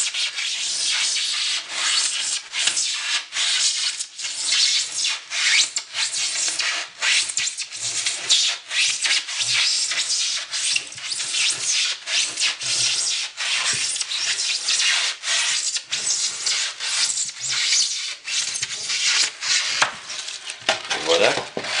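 Wood being cut at an angle for a model train layout, a steady close rasping stroke repeated continuously with short irregular breaks.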